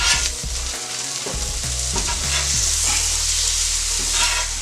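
Scallops searing in butter on a hibachi-style steel grill, a loud steady sizzle with some stirring and scraping, heard up close and without talk.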